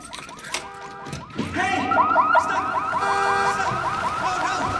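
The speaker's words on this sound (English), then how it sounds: "tries setting off the store owner's car alarm" A car alarm blares in a store parking lot, cycling through warbling, chirping siren tones that start after a brief clatter and then sound loud, close and continuous with no voices over it.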